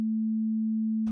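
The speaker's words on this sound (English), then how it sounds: "I'm going to do something that makes it sound like I'm adding extra notes to this single sine wave" A single pure sine tone plays steadily and loudly at one constant low-mid pitch for about a second, then cuts off abruptly. No other notes are evident and no one speaks.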